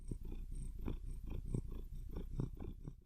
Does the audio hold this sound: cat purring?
yes